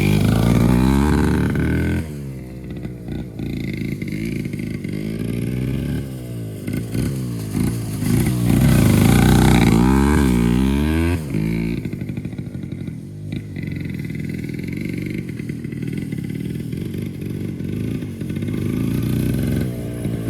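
A vintage 1974 Kawasaki MC1 motorcycle being ridden, its small engine buzzing loud and close, rising and falling in pitch as it revs up and eases off for the whole stretch.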